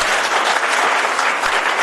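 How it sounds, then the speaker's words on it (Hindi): A dense burst of audience clapping at a Sanatan Dharma Sansad religious gathering, loud and close, steady throughout the brief moment. "इसलिए एक बार आपने अपने लिए ताली"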